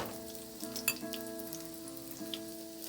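Flour-dredged Chicken of the Woods mushrooms fry in hot oil with a soft continuous sizzle and small crackles and pops, quiet and close, with sustained tonal sounds ringing under the frying.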